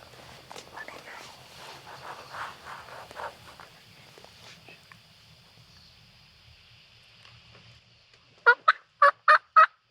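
Near the end, an Osceola wild turkey gobbles in a loud, rapid burst of several notes, following soft whispered talk and rustling during a Florida turkey hunt.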